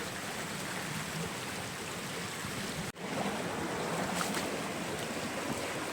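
A river swollen by heavy rain in the Konkan hills rushes down past villages with a loud, steady roar of flowing water that drops out only for an instant.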